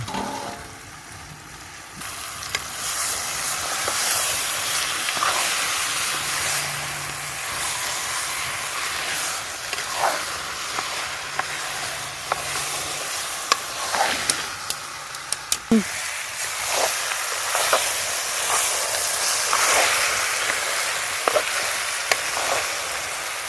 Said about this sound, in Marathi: आणि आता हे टोपामध्ये टाकूया चिकन